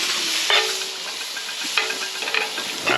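Butter and minced garlic sizzling in a pan at an outdoor camp cook, a close steady hiss with a few clinks and stirring scrapes breaking through.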